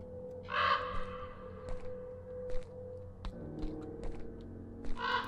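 A crow in the Gray Dawn game gives two or three harsh caws near the start and end, set against a quiet low humming ambience with scattered soft clicks.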